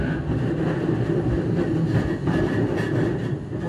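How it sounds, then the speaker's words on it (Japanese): Low rumbling of a train running between Musashi-Itsukaichi and Haijima stations, repeatedly stopping and starting, steady rolling noise with faint rattles and a slight drop in intensity near the end. "電車は一旦止まり動きを繰り返しいたします。"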